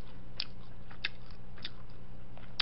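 Crispy fried batter from tteokbokki being chewed, sharp crunchy bites close to the mic, about four distinct crackling crunches spaced evenly over a steady quiet background.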